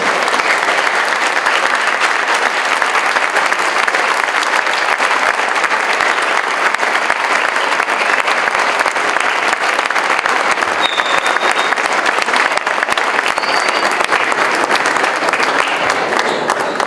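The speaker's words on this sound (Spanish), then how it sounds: "espero que este aplauso se escuche más fuerte porque va hasta el cielo" Sustained, dense applause from a large audience at an award ceremony honoring Otilia Salinas Correa, loud and steady throughout without any speech.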